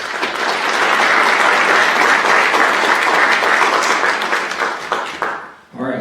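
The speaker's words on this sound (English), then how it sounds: "So, round of applause for them for doing this." Loud, sustained applause from a school spring concert audience after a high school performance, dense clapping filling several seconds before fading out, with a voice starting to speak at the very end.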